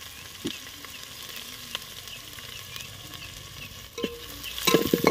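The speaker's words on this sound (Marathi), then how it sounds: "आता कांदा आपल्याला थोडा लाल बुंद होईपर्यंत तेलामध्ये परतवून घ्यायचं" Chopped onion frying in hot oil with garlic and curry leaves in a pan, heard as a steady, close sizzle with occasional stirring clinks and a louder burst of activity near the end, with no voices.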